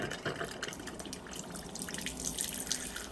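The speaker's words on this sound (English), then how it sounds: "Drinking water comes out." A water ionizer pours alkaline drinking water at level 1 into a cup, making a steady, close splashing stream with no talk.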